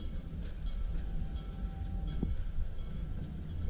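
Busch Gardens park train running toward its Nairobi station, a steady close rumble of wheels and carriages with a brief squeal partway through, no voices over it.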